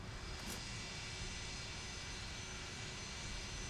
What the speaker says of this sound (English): We're going to go ahead and start the APU.